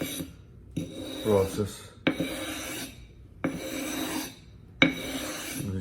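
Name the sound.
flattening a knife sharpening stone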